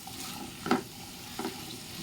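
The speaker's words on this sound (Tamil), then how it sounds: "இப்போ எல்லா காலிஃப்ளவரும் போட்டுட்டு நல்லா அந்த எண்ணெயிலேயே வதக்கிக்கோங்க." Cauliflower sautéing in oil over high flame, a soft steady sizzle broken by two brief scraping stirs, close but fairly quiet.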